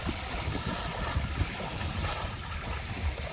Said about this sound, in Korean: 이 호수에도 파도가 쳐요.